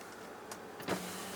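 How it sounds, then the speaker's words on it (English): Power rear glass on a 2021 Ford F-150 Platinum truck cab sliding briefly, a soft electric motor whir rising near the end and holding steady, close and quiet, with no talk. "Little controls up there for your rear glass in the back."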